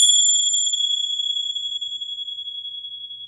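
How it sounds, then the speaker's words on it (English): A single chime struck to cleanse objects, a clear high ringing tone that starts bright and decays slowly over a few seconds, alone and close. "I use chimes sometimes to cleanse objects of previous energies."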